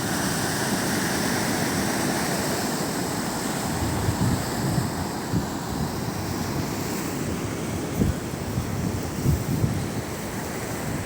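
Large ocean waves surging onto the shore at Baler, Aurora after a typhoon, a steady loud roar of surf with wind across the microphone and occasional heavier crashes, no talking.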